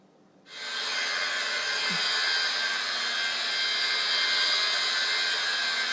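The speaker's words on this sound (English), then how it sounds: "Get our Makita and our steel wool pad on top of our driver." A Makita driver fitted with a steel wool pad starts up and runs in a steady, loud, continuous whir while it polishes a granite countertop during crystallization, with no talking.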